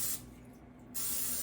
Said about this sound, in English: spray your clean hands,